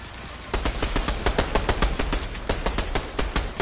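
Rapid automatic gunfire in a Fortnite match, a dense burst of about two dozen sharp, loud shots in close succession with no voices over it.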